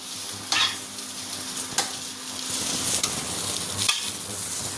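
Chopped colocasia (taro) leaf pieces sauté in a hot pan with a steady frying sizzle and scraping stir strokes, with sharper spatula knocks near the start and end and no voices.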